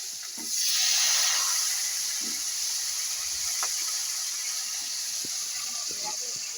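Kohlrabi and spring onions hitting hot oil in a pan, a loud steady hiss and sizzle that swells at the start and then settles into a continuous frying noise, with a few faint clinks.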